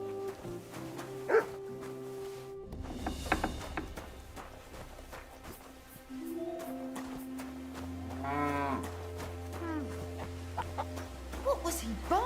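A dog in Kingdom Come: Deliverance II barks among game sounds of farm animals such as chickens and cattle, with music and voices running underneath throughout.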